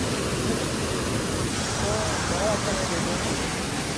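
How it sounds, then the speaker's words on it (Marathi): Strong water flow pours through the rocks at Gupt Bhimashankar in a continuous heavy roar, with a faint voice briefly audible beneath the rush. "पाण्याचा फ्लो खूप आहे"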